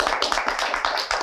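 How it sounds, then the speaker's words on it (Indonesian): A talk-show studio audience claps in a lively, loosely rhythmic pattern of bursts, moderately loud and close, with a short stretch of applause and no clear speech over it. "Tepuk tangan sekali lagi, tepuk tangan."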